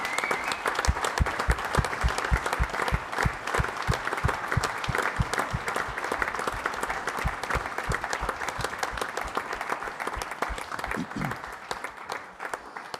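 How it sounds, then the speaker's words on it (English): An audience at an end-of-season awards show applauds steadily and briskly for over ten seconds as guests come up on stage, the dense clapping fairly close and even, with some voices faintly mixed in. "give them a round of applause as they come up"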